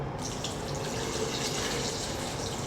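Water is poured into a bowl of squeezed lime juice and salt while making masala murukku dough, a steady splashing pour that runs continuously and fairly softly throughout.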